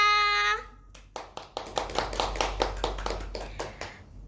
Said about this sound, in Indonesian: Kita beri tepuk tangan dulu untuk Kak Salsa.